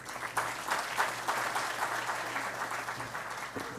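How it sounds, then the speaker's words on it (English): An audience at a memorial oration on artificial intelligence breaks into steady applause, a full, continuous wash of many hands clapping, fairly close, with a low hum running underneath. "Please give a huge round of applause"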